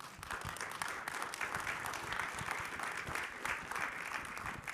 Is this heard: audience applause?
yes